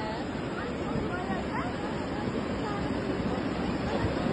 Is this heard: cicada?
no